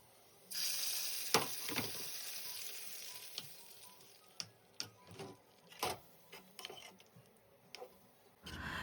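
Spices tempering in hot oil in a pan for South Indian sambar: a faint, steady sizzling hiss, broken by light clinks and ticks of utensils at close range.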